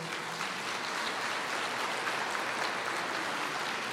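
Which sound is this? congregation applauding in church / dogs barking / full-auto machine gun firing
congregation applauding in church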